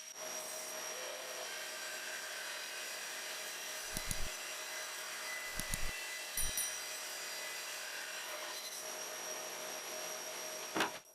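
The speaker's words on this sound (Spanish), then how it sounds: "me dirigía a la sierra de banda para hacer otro corte" A band saw runs steadily through wood being cut into pieces for a woven-pattern cutting board, a constant close mechanical whine with a few short low knocks and thumps along the way.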